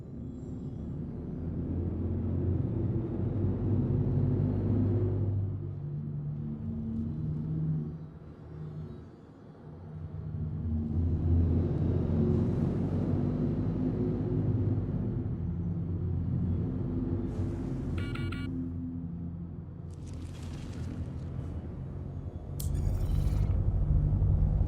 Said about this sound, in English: Quantum drive is now on.